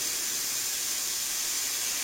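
Liquid spraying hard while car engine parts are cleaned, a steady broad hiss held at even strength for the whole stretch with no talk over it.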